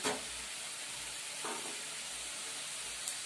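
Fenugreek greens frying in a pan as grated coconut goes in, a steady close sizzle and hiss with a few soft stirring scrapes.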